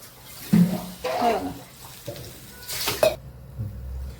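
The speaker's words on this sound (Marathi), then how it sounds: "कांद्यात आपण आता थोडं पाणी टाकणार" Water is poured into sautéed onions in a pan, giving a few short splashing bursts and light clatter, with someone speaking between them.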